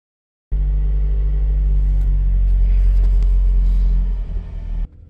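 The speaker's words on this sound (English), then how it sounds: "Driving with these, I do notice some slight resonance, being excited at about 1100 RPM" Steady low engine rumble from a car fitted with custom TPU engine mount inserts, cruising at around 1100 RPM with a slight droning resonance, close and continuous for about four seconds before easing off.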